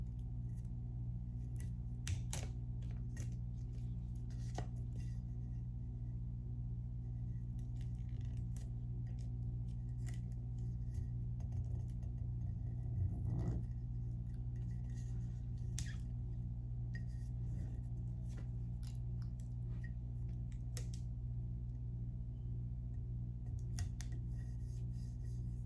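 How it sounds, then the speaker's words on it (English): Heat-resistant tape being creased along its edges onto a sublimation mug: soft, close rubbing and crinkling scrapes, scattered in brief bursts over a steady low background hum, with no talking. "I'm just creasing the edges to make sure that there's no air getting in"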